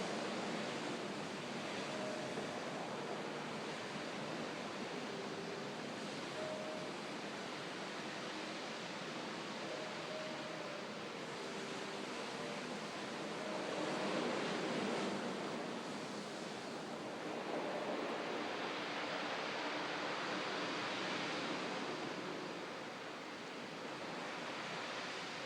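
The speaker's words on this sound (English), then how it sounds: "those are waves out there, the beautiful Pacific Ocean." Pacific Ocean surf rolls in at night, a steady wash of breaking waves with gentle swells in loudness, distant and continuous with no voices.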